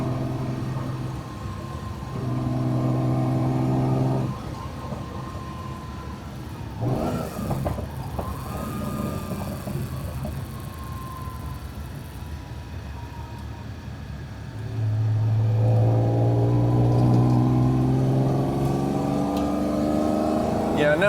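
Fiat Dino Spider with a Ferrari engine accelerating, engine note climbing in pitch during two pulls separated by a quieter stretch, heard from inside with someone talking over it.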